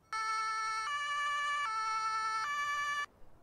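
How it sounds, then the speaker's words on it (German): The Martinshorn on a Mercedes-Benz Sprinter DRK emergency doctor vehicle in Landwirtschafts-Simulator 19 sounds a clean two-tone siren, alternating high and low pitch four times over about three seconds and then stopping abruptly, with no talking. "und natürlich Martinshorn"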